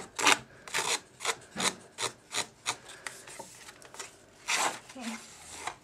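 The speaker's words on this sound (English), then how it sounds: "And we're going to take our cutter tool. We're just going to rough up the edges." A cutter tool scrapes and roughs up the edges of a 4 inch piece of olive cardstock, making a run of short, close, rhythmic rasping strokes, about a dozen in quick succession.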